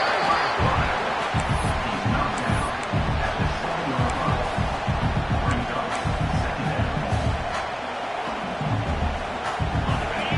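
A packed stadium crowd roars steadily in a college football video game between Clemson and Michigan, cheering to help the defense with the offense pinned near its own goal line; the dense noise stays loud and unbroken throughout.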